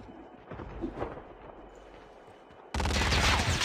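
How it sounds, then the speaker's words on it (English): Gunfire in a video game set at the T-3 Refinery, a low rumbling scuffle of faint shots that breaks into a sudden loud, dense burst of rapid fire near the end. "But the bullets are just... I'm getting shot up right now"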